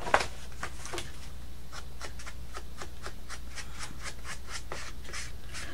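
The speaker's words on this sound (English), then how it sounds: "all we have to do now is re-ink this bottom piece, the bottom side where we trimmed it" Ink is rubbed along the freshly trimmed bottom edge of a paper piece for a Christmas lapbook craft, a steady series of short, close scratchy strokes with no talking.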